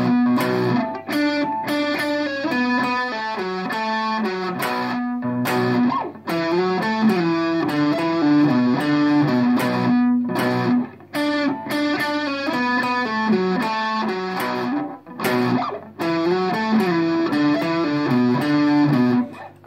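Distorted electric guitar plays the riff at a slow, deliberate pace, heavy crunchy chords and single-note runs repeating through the whole stretch, loud and close with no voice over it.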